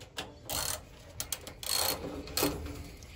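A socket set ratchet working bolts loose gives several short, close bursts of rapid clicking separated by brief quiet gaps.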